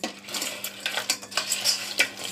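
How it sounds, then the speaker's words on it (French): Crabs are stirred and mixed with lemon juice and salt in a bowl, giving close, wet squelching and clattering knocks in an uneven rhythm of short bursts, with no voices. "Nous allons bien mélanger nos crabes"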